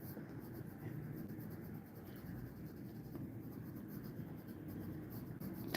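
Pencil drawing a dancing figure's hand on paper in a quick action-pose sketch: continuous soft scratchy strokes, close and steady, without pause.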